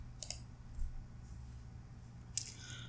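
Two crisp mouse clicks a couple of seconds apart while stepping through a MySQL software installer on Windows 10, close and quiet over faint background hum.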